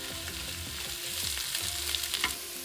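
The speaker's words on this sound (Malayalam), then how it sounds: "ഇനി ഇതിലേക്ക് ചേർക്കുന്നത് സബോള ചെറിയ കനം കുറച്ച് അരിഞ്ഞതാണ്." Two large onions, thinly sliced, sauté in hot oil for egg biryani, giving a continuous close sizzle broken by occasional stirring scrapes, with no talking.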